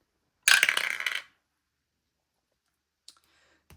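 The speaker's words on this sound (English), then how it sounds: "We're going to roll a dice and see what we can do" A die tumbling through a dice tower makes a short clattering rattle, followed after a pause by a couple of faint clicks as it settles.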